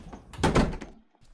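A door in a basement is pushed open with a heavy wooden thunk and rattle, one short close burst of sound followed by quiet.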